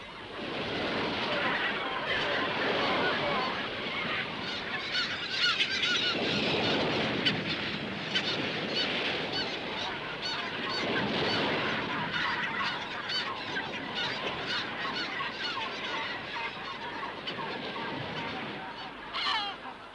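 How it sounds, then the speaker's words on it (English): Hungry gulls and petrels squabble on a beach, fighting over a sea lion's birth remains: dense, continuous calling and honking cries from many birds, fairly close, over steady wind and surf for the full stretch. "Even the placenta from a sea lion's birth is fought for by a host of hungry gulls and petrels."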